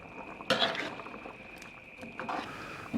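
Chopped herbs stirred into a Northern Thai chicken curry in a pot, with a few clinks and scrapes of a utensil against the pot over a soft simmering background.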